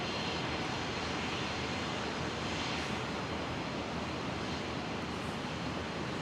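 A QantasLink Dash 8 Q400 turboprop at Brisbane Airport, departing from runway 01 left for Bundaberg, gives a loud, continuous engine roar throughout, with no voices.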